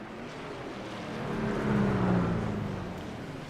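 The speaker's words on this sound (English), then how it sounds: "Start laying on that throttle pedal. You hear him get up and go through the gears." A race truck in the iRacing truck series at Long Beach accelerates through its gears, its engine note rising in a loud droning sweep that peaks, then eases off.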